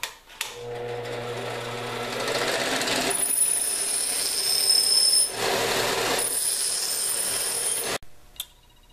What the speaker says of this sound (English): I'm going to take it down a little on the grinding wheel before I go to the sander